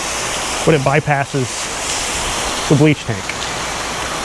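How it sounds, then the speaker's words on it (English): A pressure washer rinses the back of a new construction home, a steady loud hiss of spraying water running throughout, with someone talking over it. "We're on the back side and we are rinsing a new construction home."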